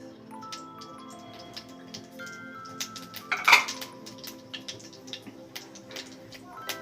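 Mustard seeds and dry red chilli crackling in hot oil: scattered sharp pops and ticks spread throughout, with a louder burst of spattering near the middle, close and fairly quiet, no voices.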